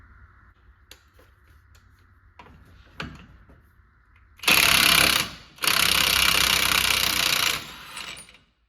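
Impact wrench loosening the wheel hub nut on a 2011 Chevy Silverado. Faint clicks and knocks lead into two loud, sustained hammering bursts of a few seconds each, close by, with no talking.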